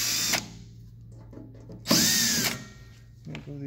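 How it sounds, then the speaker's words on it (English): A power drill or driver removes the side screws from the top crown of a Guillotine XPC19 PRO clamp, with a short whir early on and a louder burst of motor and ratcheting near the middle, then a brief rattle. "There's two screws on the side here. A Phillips screwdriver is all you need."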